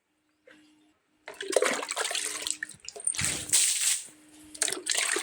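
Water is splashed across a yard to clean it, in loud, close rushing gushes that come in uneven bursts with short pauses between them.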